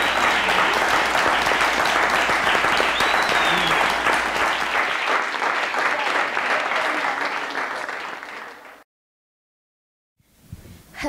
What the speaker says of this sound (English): we should give her a round of applause